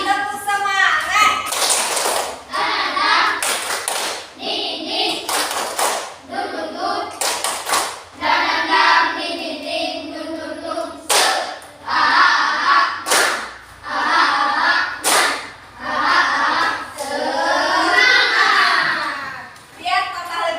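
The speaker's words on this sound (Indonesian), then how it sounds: "Coba tepuk semangat." Children in a classroom clap out a rhythmic cheer with their teacher, bursts of clapping alternating with chanted voices in a steady pattern, close and fairly loud throughout.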